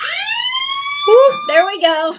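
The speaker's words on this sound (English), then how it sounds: "Here's your alarm warning." A sustained, high, slightly gliding alarm-style siren tone sounds for about a second on a live jewelry sales broadcast, followed by excited talk.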